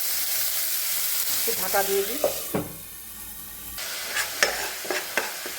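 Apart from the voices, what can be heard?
onion and tomato paste frying in a pan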